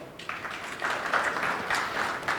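Audience applause breaks out at a live session and carries on steadily for a couple of seconds, a dense wash of clapping from a crowd.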